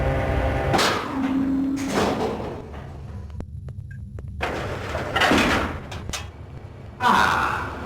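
A door opens and shuts in a Hitman game, giving several loud, broad thumps and sliding bursts spread across a few seconds with brief pauses between them.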